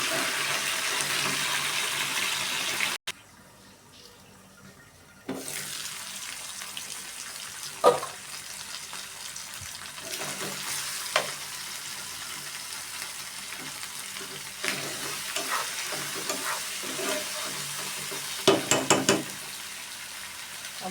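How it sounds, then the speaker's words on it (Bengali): Onion paste and spices frying in a pan for a country chicken curry with coconut milk, a steady low sizzle broken by scraping and clattering of stirring, with one brief pause. "একটা গোটা পেঁয়াজ বেটে দিয়ে দিয়েছি ভালোভাবে নাড়তে থাকবে"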